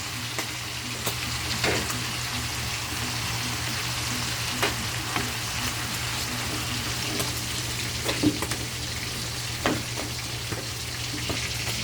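Mung beans hiss steadily in a sautéing pan, a close and continuous sizzle with a few scattered pops and stirring clatters, and no talk over it.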